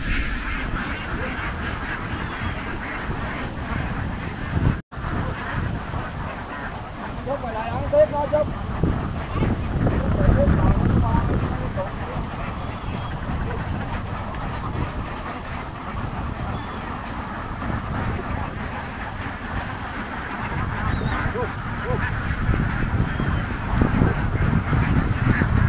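A large flock of about 11,000 laying ducks, driven back from the rice fields to their pen in Vietnam's Mekong Delta, keeps up a dense, continuous quacking din with steady outdoor background noise throughout.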